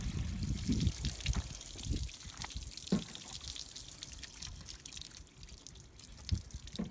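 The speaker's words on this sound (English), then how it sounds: "so that was a whole bucket of water there" A bucket of water poured over a motorcycle to rinse it off, splashing and trickling unevenly with scattered drips and small surges, moderately close and with no talking.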